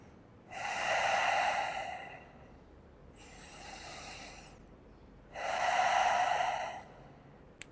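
Deep breathing during a hatha yoga pose, three long audible breaths through the nose, each lasting over a second with pauses between, close and clear with no talk.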